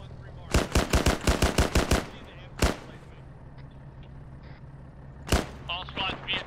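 Heavy machine gun fire from an emplacement at a rail depot in a Cold War era ARMA battle, a loud rapid burst of about nine shots followed by two single heavy reports, with radio chatter between them.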